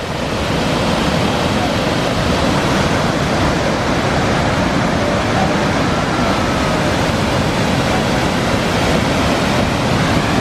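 Glacier meltwater pours down a waterfall near Mendenhall Glacier in Juneau, a dense, constant roar of rushing water that stays loud and unbroken from start to finish.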